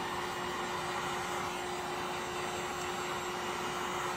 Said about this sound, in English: You don't want to go straight down with your gun, your heat gun, if you can.